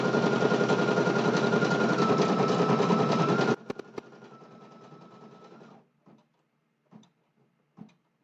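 A Brother PE 800 embroidery machine stitches along a seam of an iron-on patch, a loud, steady mechanical whirr for about three and a half seconds, then a quieter running hum that stops, followed by a few faint clicks.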